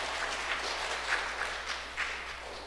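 Scattered, soft applause from schoolchildren clapping for a classmate at a school children's Mass, heard faint and distant in a reverberant room, with a few louder claps standing out.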